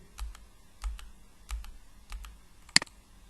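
Computer keyboard keys pressed during CAD drafting work, a handful of soft, close clicks spaced about half a second apart, ending with one sharper, louder tap.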